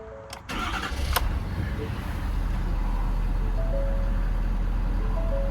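Diesel engine of a 2019 Ford F550 4x4 utility truck cranking and catching after the glow plugs warm, then settling into a steady low idle, close up with a few clicks at the start.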